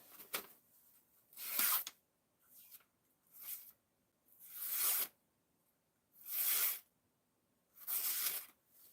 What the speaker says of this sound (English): as I rip paper instead of cut it